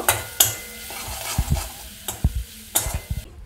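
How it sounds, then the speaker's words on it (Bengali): Vegetables are fried together with fried coconut for labra, a Bengali mixed-vegetable dish, with close spoon scrapes and clacks against the pan over a soft background sizzle, in irregular bursts. "আর এই যে নারকেল ভেজে রেখেছিলাম, ওটাও দিয়ে দেব। ভালো করে এটা ভেজে নেব।"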